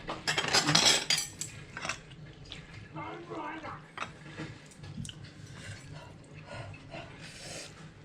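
Food being scooped with a ladle and cutlery at a family dinner table, giving a burst of metallic clatter and scattered clinks of utensils on dishes while people talk quietly nearby.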